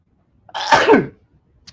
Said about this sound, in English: I'm going to sneeze really loudly.